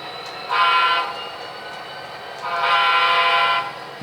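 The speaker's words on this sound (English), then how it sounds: "Coming across the road there with the locomotive" A model railroad locomotive crossing a road during a local switching operating session sounds two loud horn toots, the second longer, over steady low running noise, with no talk.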